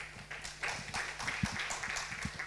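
Light, scattered clapping from a small conference audience after a talk, uneven individual claps at moderate distance, fairly quiet.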